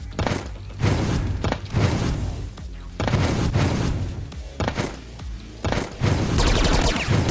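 A new machine gun in the video game Choke Point fires in loud, heavy bursts of rapid thudding shots, several long volleys separated by short pauses.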